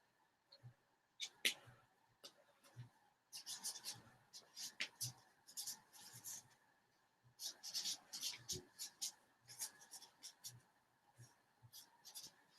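Pen or marker writing on paper during a classroom read-aloud lesson: quiet, close scratchy strokes in short bursts with brief pauses, steady throughout and with no talk.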